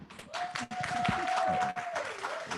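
An audience at a film festival event applauds to welcome a band to the stage, steady crowd clapping with a sustained tone and voices mixed in.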